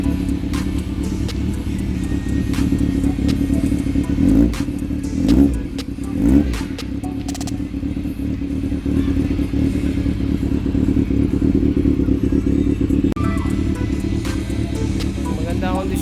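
A Honda CB400 motorcycle engine idles steadily and close by after a thermostat replacement, a continuous even rumble with a few brief revs early on, while people talk over it.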